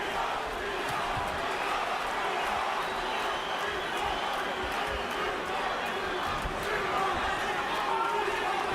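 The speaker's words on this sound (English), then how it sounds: "B-Hop chant here in Montreal." A boxing crowd in Montreal chants "B-Hop" for Bernard Hopkins during his fight with Jean Pascal, a broad, sustained roar of massed voices with rhythmic swells, heard under a commentator's talk.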